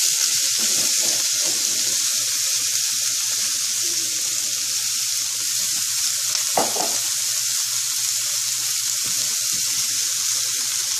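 Poblano peppers fry in olive oil in a pan, a steady close sizzling hiss with faint scraping stirs and a brief clack partway through.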